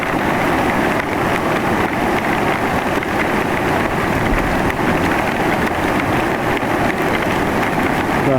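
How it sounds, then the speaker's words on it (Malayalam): A dense, steady roar of heavy rain in Wayanad during flash flooding fills the whole stretch, constant and loud with a rumbling low wash like downpour on surfaces nearby. "അതുപോലെ ഭയങ്കര മഴയും"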